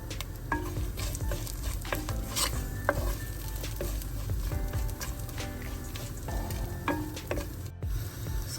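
Chopped onion, green chillies and curry leaves frying in a hot pan for a dried-fish sothi curry, with a steady sizzle under repeated stirring scrapes and clinks of a spoon against the metal pan.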